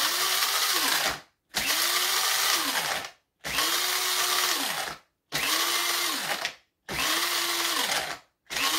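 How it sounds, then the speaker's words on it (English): An electric grinder whirs through mixed nuts (walnut, pumpkin seeds and almonds) in five steady pulses about a second and a half long, each separated by a short silence, close and loud. "Now I have some mixed nuts here, walnut, pumpkin, and almonds. I'm gonna go ahead and grind some."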